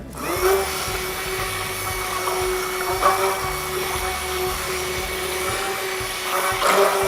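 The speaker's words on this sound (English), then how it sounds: "we use these little immersion blenders to mix our things" An immersion blender whirs steadily as it mixes cold process soap, its motor drone holding a constant pitch for several seconds with slight surges near the start and end.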